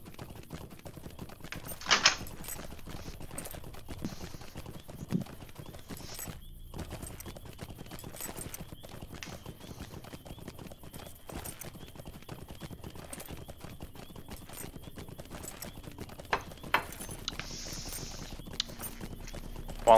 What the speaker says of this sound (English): While I'm riding my pony